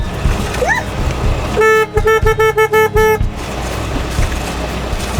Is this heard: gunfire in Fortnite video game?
no